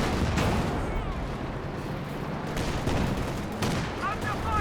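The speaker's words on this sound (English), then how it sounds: "AT gun firing away against his Panzer IV." An anti-tank gun in Company of Heroes 2 fires on a Panzer IV, its sharp reports repeating through a dense, constant wash of battlefield gunfire and explosions.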